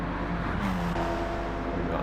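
A race car engine at Bathurst in Gran Turismo 7 drones loudly and continuously, with quick gear changes shifting the pitch before it fully revs out, heard under someone talking.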